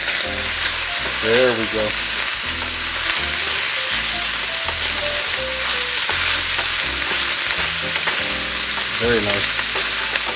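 Meat browning in a pan for a queso dip, a constant loud sizzle with occasional stirring scrapes, while someone talks over it.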